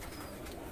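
Prized UAE show pigeons cooing in a soft, continuous low murmur at close range, with no talk over them.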